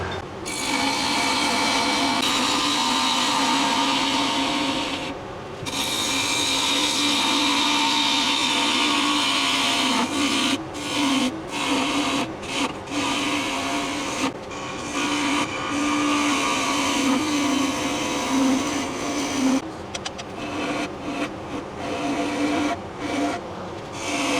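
A wood lathe spins as a gouge hollows out a wooden rice bowl, making a continuous rubbing, scraping whir. It stops with brief gaps now and then, and there is no talk.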